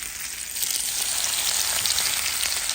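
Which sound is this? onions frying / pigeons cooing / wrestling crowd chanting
onions frying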